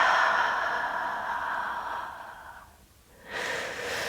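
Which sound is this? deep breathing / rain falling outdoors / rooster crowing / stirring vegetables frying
deep breathing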